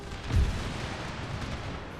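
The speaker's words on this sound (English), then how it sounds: "the cannons firing" Cannon fire in the video game Empire Total War, a single low boom followed by a rolling rumble that fades into steady background battle noise.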